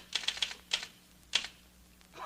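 A typewriter clacks in quick bursts of sharp keystrokes, with a pause before a final cluster, close and clear against a quiet room with no voices.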